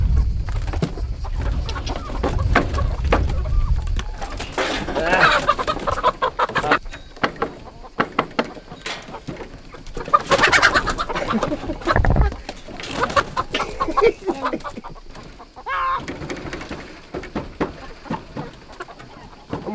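Chickens cluck in a village yard in the Albanian countryside, a steady, close chorus of hens with a few louder bursts and no talking.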